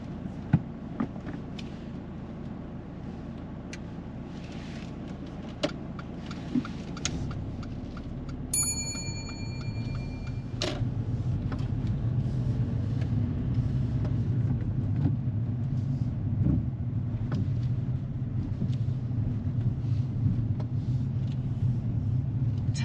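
Learner's car pulling away during a mock driving test, a low engine rumble that builds and stays steady after a quiet idle, with a few faint clicks and ticks inside the cabin.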